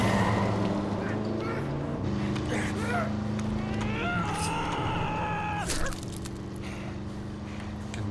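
Car driving in the video game Wolfenstein, a steady engine drone with harmonic hum and shifting pitch running throughout, loud and close, with game voices and effects layered over it and a drop in level near the end.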